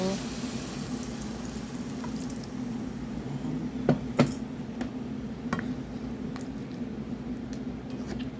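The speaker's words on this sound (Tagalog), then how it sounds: "pakuluan lang natin siya ng mga 5 minutes" Shrimp in broth with ginisang hipon ingredients bubbling in a pot, a steady low simmering hiss and burble with a few faint clinks, continuous and close.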